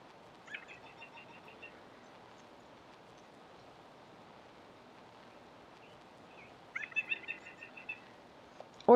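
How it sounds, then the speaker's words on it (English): White-breasted nuthatch song played back from the Merlin Bird ID app, two short bursts of rapid repeated notes, one near the start and one toward the end, faint over quiet room hiss. "we have identified the white-breasted nuthatch"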